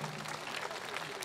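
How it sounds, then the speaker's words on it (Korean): An audience at a traditional Korean music festival stage claps in a brief, dense burst of steady applause with a faint voice underneath. "오늘 이 자리에 뜨거운 박수 좀 부탁드립니다."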